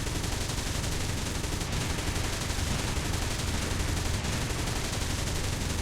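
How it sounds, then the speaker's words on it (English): A self-propelled anti-aircraft gun in War Thunder fires its guns in a dense, unbroken roar of rapid automatic bursts. The sound stays loud and constant for the whole stretch with no pauses. "the reason for that is that when you fire it"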